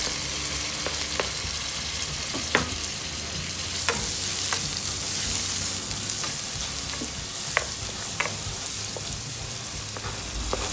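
Ginger and garlic frying in hot oil for ginisang monggo, a steady close sizzle with scattered spatula clicks and scrapes throughout.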